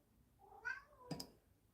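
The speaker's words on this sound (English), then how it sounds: "Sorry if you can hear my cat meowing." A house cat gives two short, quiet meows in a still indoor room, the second slightly higher and sharper.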